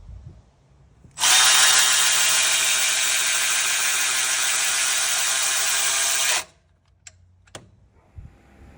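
A Snap-on or Milwaukee electric ratchet whirs loudly and steadily for about five seconds while loosening a bolt, then cuts off, followed by a few faint clicks and taps.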